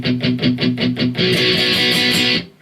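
Distorted electric guitar playing the pre-chorus B part of a song: six quick palm-muted chugs, then an open ringing chord held for about a second before cutting off.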